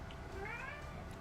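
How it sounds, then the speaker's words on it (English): A cat meows once, a short rising-and-falling call at moderate distance over a faint room hum. "Fuck off, cat."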